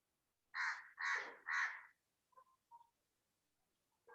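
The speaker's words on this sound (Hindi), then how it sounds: "कौवे काव काव कर रहे हैं" Crows give three loud, harsh caws in quick succession close by, followed by a couple of shorter, fainter calls and quiet pauses, with no one talking.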